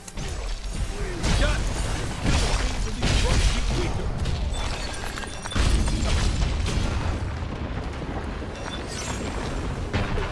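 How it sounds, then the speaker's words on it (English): Heavy booms and crashing impacts as a vent is destroyed in the action game Stranger of Paradise, loud and sustained with repeated bursts over a continuous rumbling game soundscape. "when we destroy this vent, this is the parts that I wanted to cover off"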